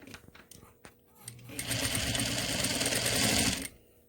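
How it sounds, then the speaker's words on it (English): A sewing machine stitching a seam on a fabric face mask runs in a steady, loud, rapid whir for about two seconds after a few quiet handling clicks, then stops abruptly. "now we're going to sew with 1/4 inch seam allowance"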